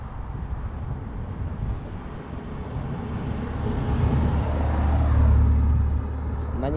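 Supercars, a BMW M4 followed by a Ferrari 488, approach and pass at a rally, a broad engine roar swelling to a peak then easing away, with wind noise over the microphone.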